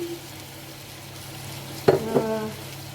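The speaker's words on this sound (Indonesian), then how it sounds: "Kita campur-campur sampai dengan tercampur dengan sempurna." Ribs being stirred and mixed in a pan give two brief scraping, sizzling bursts near the end, after a stretch of quiet background hiss.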